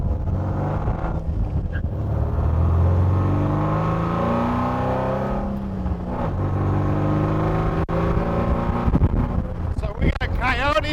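A 1933 Ford Roadster hot rod with a supercharged Coyote engine drives off, its engine rising and falling in pitch through gear changes under wind noise, loud and close.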